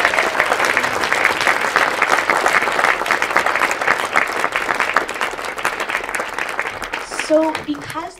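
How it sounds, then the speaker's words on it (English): A film festival audience gives loud, sustained applause to filmmakers gathered on stage, dense clapping that continues for about seven seconds before tapering off as a voice begins speaking. "How about a round of applause?"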